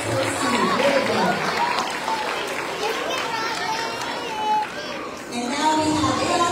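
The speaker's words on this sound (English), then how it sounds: "Let's give Robin another round of applause as she takes her seat" Applause from a school assembly crowd fills a hall, steady and dense throughout, with children's voices and chatter mixed in and a brief dip before rising again.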